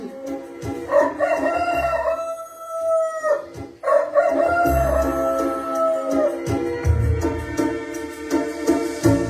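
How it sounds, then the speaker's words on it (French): Rooster crowing sounds out over music on a French live retro dance broadcast, several drawn-out crows rising and falling across the clip, loud and close, with a steady beat and low rumble underneath. "c'est la rubrique du chant du coq"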